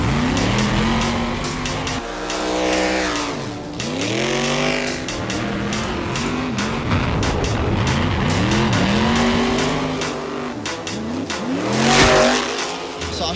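A stunt car is driven hard for connecting shots, with repeated revving, engine pitch sweeping up and down through gear changes, and tire squeals, loud and close throughout.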